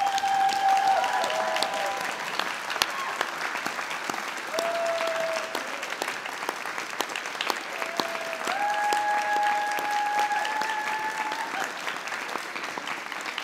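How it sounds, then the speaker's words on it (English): Sustained applause fills a graduation ceremony hall as graduates stand and clap for their audience of family and friends, steady and dense throughout, with a few high musical or tonal lines drifting over the clapping. "can I ask you to be upstanding and applaud your audience as a way of saying thank you for everything they've done."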